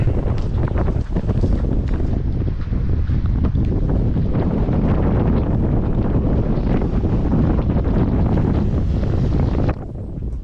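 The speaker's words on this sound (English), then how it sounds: "even though it's windy and even though it's wet" Strong, gusty wind in wet weather at Hervey Bay, Australia, buffets the microphone throughout, a loud continuous rumble that drops off abruptly near the end.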